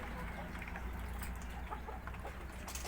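Laying hens clucking in a poultry house, steady low clucks and calls over a constant hum of fans or machinery, moderately distant with a brief sharper call near the end.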